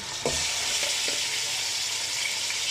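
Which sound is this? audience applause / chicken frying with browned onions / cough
chicken frying with browned onions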